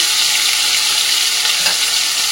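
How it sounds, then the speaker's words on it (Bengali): Steady, loud sizzling of dain fish frying in a pan, a continuous crackling hiss with no voices throughout. "দেখো মাছগুলো ভাজা হয়ে গেছে, এবার এক এক করে মাছগুলো তুলে নেব"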